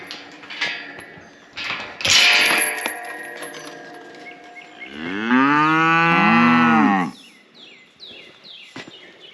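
Cattle and young calves in a pasture moo loudly, one long drawn-out bellow dominating the middle, with shorter calls and background noise around it while a person talks.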